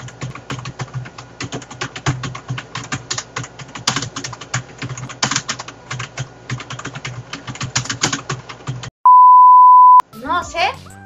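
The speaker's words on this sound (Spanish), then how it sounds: "Es que tengo un nuevo teclado, chicos, ¿saben? Y lo que pasa es que es mecánico el teclado, entonces suena" Rapid clattering of a new mechanical keyboard, dense irregular key strikes going on for several seconds, then a steady electronic beep and a burst of voice.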